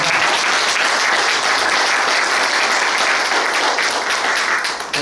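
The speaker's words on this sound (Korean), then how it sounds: "큰 박수 부탁드리겠습니다" An audience at a Chungnam architects' association presidential candidate debate breaks into loud, sustained applause, dense clapping that holds steady for several seconds before starting to thin at the end.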